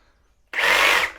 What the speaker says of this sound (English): Okay, so I just held my finger on the trigger. I did that same little stutter.